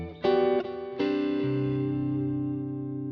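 Electric guitar played through a Boss GX-100 preset blended with a Matchless combo amp, a few clean, ringing chords struck in succession and left to sustain and slowly decay, close and moderately loud with no voices.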